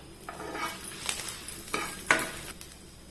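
Byadgi chillies and curry leaves fry in a pan, a low sizzle broken by several sharp clinks and scrapes of a spoon stirring against the metal.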